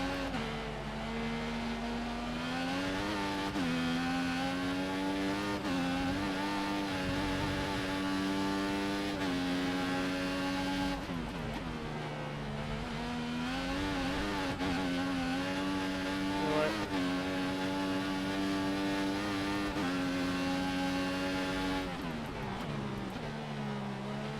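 Formula 1 race cars in the F1 2014 video game, racing at Melbourne, produce a continuous high-pitched engine whine that rises and drops with gear shifts, loud and sustained throughout.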